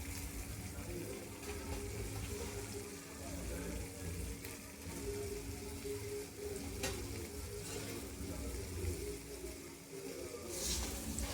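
Boiled pasta stirred into sauce in a frying pan, a steady, close sizzle and wet scraping churn running throughout under a bed of kitchen noise.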